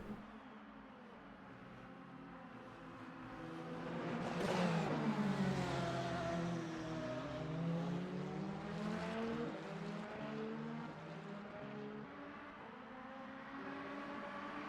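A race car engine howls at high revs in the Le Mans Ultimate racing game on the Mulsanne Straight, pitch rising and falling through gear changes, loud and steady throughout with cars roaring alongside.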